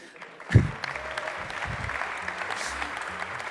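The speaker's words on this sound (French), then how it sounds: "Rien que pour ça, je pense qu'il mérite d'être applaudi." An audience breaks into applause after a sharp knock, clapping spreading into a steady, moderately distant patter.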